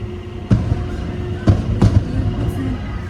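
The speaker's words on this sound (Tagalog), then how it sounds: "Fireworks? Oh my gosh, ang ganda!" Several sharp booming bursts of fireworks in Baguio at irregular intervals, loud and fairly close, over a low background rumble.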